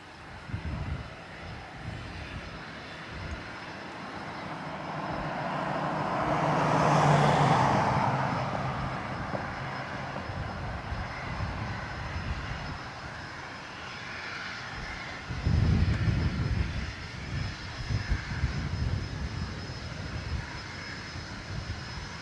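An Airbus A321XLR jet at Dublin Airport roars steadily, swelling to a peak before easing off, with a low rumble picking up again near the end; the engine noise is continuous and moderately loud.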